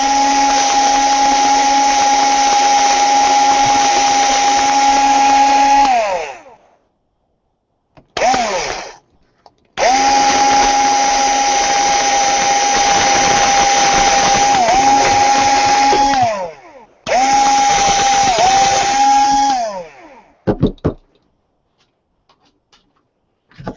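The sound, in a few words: power drill drilling into a dragon model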